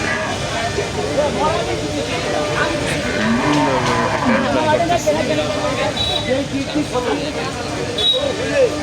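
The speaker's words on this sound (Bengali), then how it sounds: "দেখুন গরু নামানো হচ্ছে" Cattle are unloaded at a crowded Dhaka cattle market, with cows lowing amid a constant loud din of people talking and shouting nearby.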